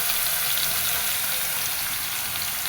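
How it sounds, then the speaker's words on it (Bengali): Ground ginger and cumin paste spitting in a hot pan, a dense, loud, continuous sizzle with a watery hiss, close up and without voices. "আদা জিরে একসাথে বেটে রাখছিলাম, সেটা দিয়ে দিলাম"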